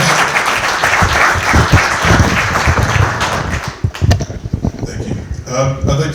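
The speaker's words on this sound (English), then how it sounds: "Please give him a round of applause." An audience at a public library event applauds loudly, a dense wash of clapping that thins into scattered claps and fades out near the end.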